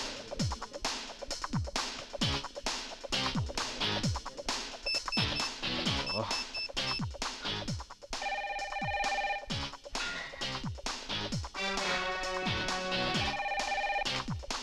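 A telephone rings over a rhythmic, music-filled background in a Telugu film scene, with repeated ringtone tones in the second half, steady and moderately loud.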